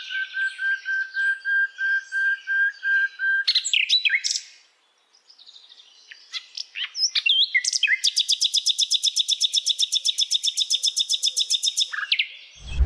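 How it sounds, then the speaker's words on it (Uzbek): Italian quail calling in repeated bright chirps and whistles, with a fast, regular series of sharp notes running through the second half, loud and close with no talk. "Ovqat berganimda albatta bitta sayrab qo'yadi jonivor."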